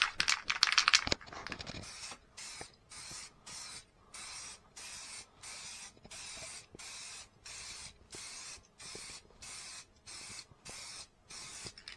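Spray can painting the underside of a motorcycle tank black, a noisy rattle at first, then a long series of short regular hissing bursts with brief pauses between them, close and steady.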